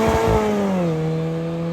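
A supercharged Mini Cooper pulls away from a car meet, its engine revving hard then settling into a steady, droning pitch, loud and close throughout.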